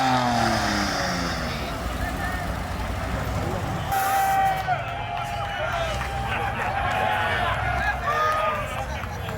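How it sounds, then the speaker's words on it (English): A go-kart engine revs up with a rising, buzzing whine, steady and fairly close, under people talking and exclaiming. "Oh, the go-kart. Rev it! Rev it!"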